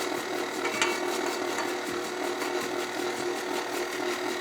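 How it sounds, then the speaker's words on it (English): An electric mixer beating coffee cake batter runs with a continuous whirring drone and faint regular rhythmic pulses, steady and fairly close, with no talking. "just going to turn the mixer on"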